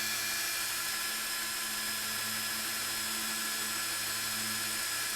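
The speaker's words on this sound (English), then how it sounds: "So at this point, we're going to drill in the mount." A high-pitched power drill drilling through a plastic louver and radiator brace whines steadily and continuously at close range, with a low motor hum underneath and no talking.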